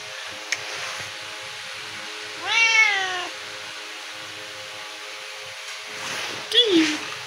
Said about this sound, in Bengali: মজনু বিড়াল খেতে গেছে